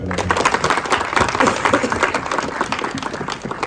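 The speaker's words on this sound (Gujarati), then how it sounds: "પ્રભુવાળી જોરદાર તાળીઓ થઈ જાય" An audience breaks into hearty applause, dense clapping from many hands sustained throughout at close range.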